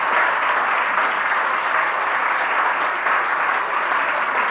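Studio audience on a televised quiz show applauding steadily, a dense, even wash of clapping that holds at full strength for several seconds with no speech over it.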